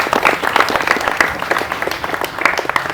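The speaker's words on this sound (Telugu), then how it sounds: "సో అందరు శివబాయ్కి ఒకసారి క్లాప్స్ కొట్టాలి గట్టిగా." An audience at a Nava Durga Youth Association Durga Mata pandal gives Shiva Bhai loud, steady applause, dense overlapping claps filling the space without pause.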